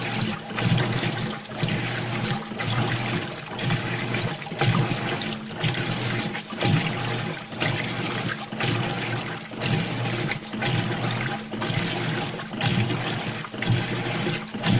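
A Whirlpool washing machine fills with water, a steady rushing, splashing flow with a low hum that holds loud and constant throughout, close to the drum.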